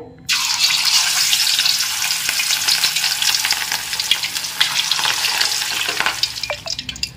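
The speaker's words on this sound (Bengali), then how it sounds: "এবার মাছগুলো ভেজে নিতে হবে।" Pieces of rohu fish hit hot mustard oil and burst into a loud, crackling sizzle that starts suddenly and holds steady close by, with small pops and spits toward the end.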